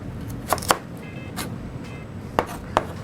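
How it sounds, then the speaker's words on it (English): A knife chops through carrots into thin strips on a cutting board for a pad thai, giving four or five sharp, separate knocks against the wood over a faint background hum. "And just cut thin strips one way"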